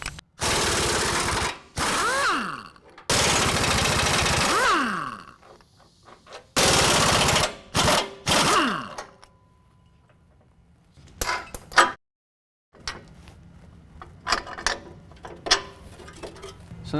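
A power impact tool works the rear cross member bolts on a 2017 Ford F-150 4WD during a lift kit install, loud bursts of buzzing rattling separated by pauses, with clanks of tools and parts between them.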